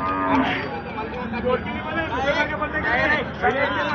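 Bullocks low and moo repeatedly amid a busy crowd at a cattle market in Deulgaon Raja, with voices chattering nearby throughout.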